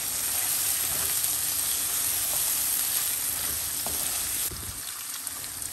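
Chicken frying in a pan with garlic, ginger and onion gives a steady, close sizzle with faint stirring scrapes, softening slightly near the end.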